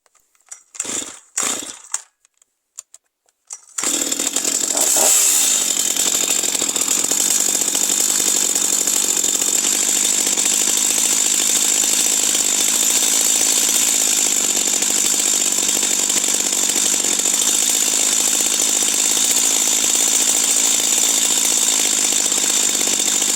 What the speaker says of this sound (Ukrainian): тобто ми закручуємо до того моменту, поки починають збільшуватися обороти